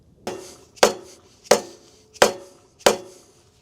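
A hammer strikes the engine block of a compact track loader bought at auction: five sharp metallic blows about two-thirds of a second apart, each with a brief ringing tone, close and fairly loud.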